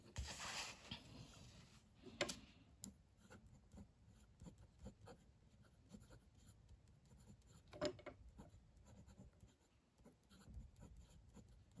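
A Pilot Kakuno fountain pen with a medium nib scratches quietly across paper, a close, faint run of short strokes and light taps with brief pauses between words.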